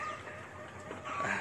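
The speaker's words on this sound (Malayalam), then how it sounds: "ഒരുപാട് കോഴികളുണ്ട്, ഒത്തിരി കോഴികളുണ്ട്" Country chickens on a farm cluck in a steady, close chorus, with a louder burst of calls near the end and no talking.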